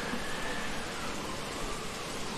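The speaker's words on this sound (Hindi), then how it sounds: "धूल उड़ रही है बहुत तेज वाली" Strong dust-storm wind in a desert village roars as steady, dense broadband noise, loud and continuous, without any talk.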